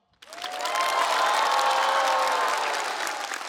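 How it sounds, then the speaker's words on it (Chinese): Audience applause at a live stand-up comedy show, a sudden burst of dense clapping from a large crowd that swells quickly and holds steady, loud and close, with faint cheering mixed in. "掌声，谢谢大家"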